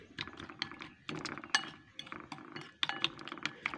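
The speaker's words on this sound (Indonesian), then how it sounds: "Telurnya kita pecahkan dan terasi sudah tersedia, makanya kita kocok terus." Eggs with shrimp paste beaten in a bowl, giving quick, close clinking and scraping of a utensil against the bowl in uneven bursts, fairly quiet with no talking.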